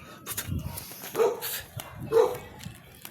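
Bankers, a pure-breed golden retriever in a residential subdivision, lets out two close, sharp barks about a second apart, with faint whining and rustling between them and no talking.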